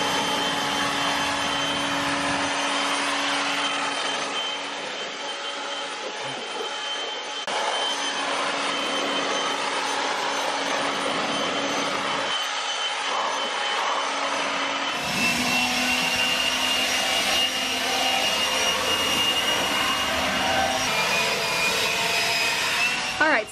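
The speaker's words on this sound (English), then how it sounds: "Okay, I'll go get the big one." A powerful petrol leaf blower clears fallen leaves after a birch tree trimming, a steady loud roar that holds nearly unbroken throughout and grows louder in the second half.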